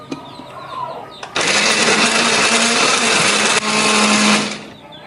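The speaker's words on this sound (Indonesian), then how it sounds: "Ini akan kita blender." A kitchen blender grinds red chili, shallots, garlic and tomato with a splash of water or oil: a loud, steady whirring roar for about three seconds, briefly dipping before cutting off, after a few faint kitchen noises.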